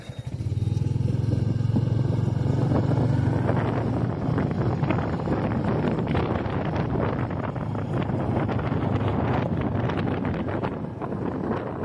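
A Royal Enfield Bullet 350 with a J-series engine runs steadily while being ridden on a rough road, its low thumping exhaust loud and continuous and mixed with heavy wind rush against the microphone, with no talking.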